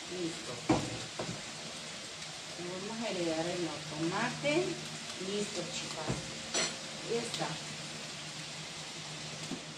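Chicken noodle soup stirred in a pot, with a soft, steady sizzle and a few light scrapes and clinks beneath a person talking throughout.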